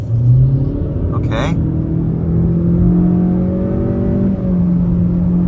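2023 Honda Accord LX turbocharged 4-cylinder pulling on a highway, a loud cabin rumble with engine tones climbing steadily before an upshift, with a driver speaking briefly.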